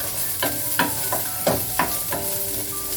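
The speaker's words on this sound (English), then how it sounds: "Now I'm going to add my oil, my onion" Onion and celery sizzle steadily in hot oil as they are stirred, with a few sharper scraping strokes from the stirring utensil standing out over the continuous frying hiss. No one speaks.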